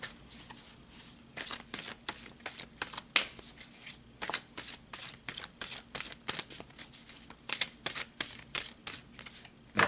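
A deck of tarot cards is shuffled over and over, each riffle a quick, crisp burst of rapid flutters, close and clear. Short pauses come between bursts and no one talks.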